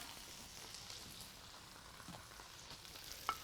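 Strips of flank steak for a stir fry frying in hot oil in a pan, a steady soft sizzle and crackle running throughout at low level, with a few brief pops near the end and no voices.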